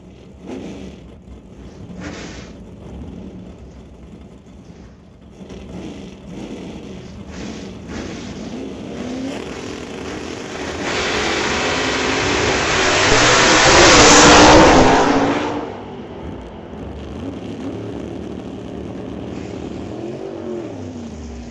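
Drag race run at an outdoor strip including a 1968 Camaro: a low distant rumble builds into a loud roaring pass of racing engines that peaks and fades, then crowd and track ambience resume.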